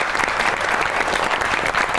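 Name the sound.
studio audience applause welcoming a guest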